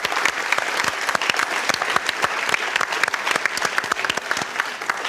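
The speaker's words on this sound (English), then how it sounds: "Everybody give the techs a huge round of applause." A theater audience at a Follies stage show gives the technical crew loud, sustained applause, with crisp individual claps standing out in a dense, close ovation.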